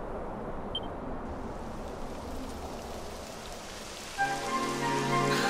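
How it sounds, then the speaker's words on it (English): Rain begins and patters steadily on the ground in the role-playing game Dragon Quest XI, a continuous hiss at constant strength, joined near the end by a sustained tonal musical swell. "Oh, typical. It would have to go and start raining, wouldn't it?"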